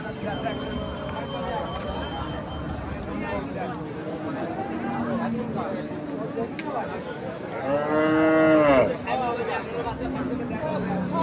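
At a busy desi cattle market where cows and calves are sold, one loud drawn-out moo rises close by near the end, over a steady murmur of people talking and market noise.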